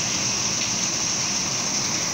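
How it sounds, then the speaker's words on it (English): Rain falling steadily as a continuous broadband hiss, even and fairly loud throughout with no distinct drops or thunder standing out. "It's raining"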